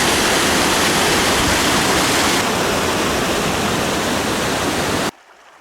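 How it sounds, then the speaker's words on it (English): A river marking the boundary of Umfurudzi Park in Zimbabwe rushes past close by, a loud, steady broadband roar of flowing water that continues unbroken for about five seconds before cutting off abruptly, with no voices. "This is the river that it's the boundary of the park"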